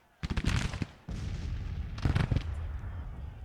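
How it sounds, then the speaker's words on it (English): Troops firing in a Grand Tactician battle, a strategy video game, with ragged volleys of musket fire crackling in bursts over a continuous rumbling din of distant shooting. "they certainly seem to be doing a lot of shooting"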